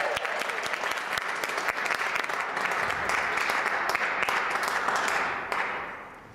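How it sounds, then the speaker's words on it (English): Sustained applause from a crowd, steady and full for several seconds before tapering off near the end. "Let's give her a big round of applause."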